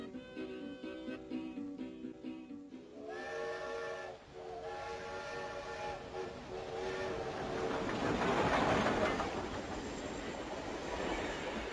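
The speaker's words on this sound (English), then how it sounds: "Aboard the presidential train" A steam-era presidential train runs along, its whistle sounding in a couple of drawn-out tonal blasts before giving way to a broader rolling rumble of the carriages, all fairly quiet and without talk.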